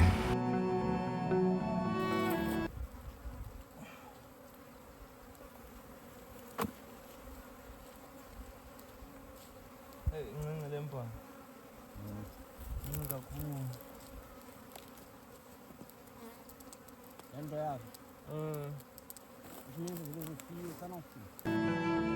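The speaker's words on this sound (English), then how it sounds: "these bees don't sting at all" Bees buzzing at a wild hive in South Africa, a continuous droning hum with louder swells as insects pass near, some rustling handling noise mixed in.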